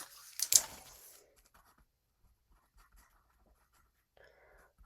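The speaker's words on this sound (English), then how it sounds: "I'm going to write it down." Handwriting on paper, a short scratchy burst of pen strokes near the start, then mostly quiet with faint small movements and a brief soft rustle at the end.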